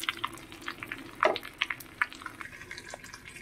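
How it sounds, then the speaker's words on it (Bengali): About 500 grams of Gobindobhog rice is fried in a pan over low flame. A soft, faint sizzle runs under light stirring scrapes and small taps, close but quiet. "এখানে আমি চালটা দিয়ে একটু ভালো করে 2 থেকে 3 মিনিট চালটাকে ভাজা ভাজা করে নেব।"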